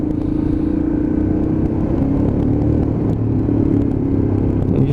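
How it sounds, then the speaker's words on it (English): Royal Enfield Himalayan 400cc motorcycle exhaust growling off the throttle during a ride, a steady low rumbling drone with some clatter, close and continuous with no talking. "you just roll off the throttle and you can just hear that exhaust tone just growling away"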